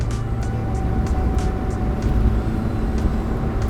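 A 230whp Mazda NA Miata's engine drones steadily from inside the cabin while driving, a loud, constant hum with faint rhythmic ticks over a rumbling road tone, no voices.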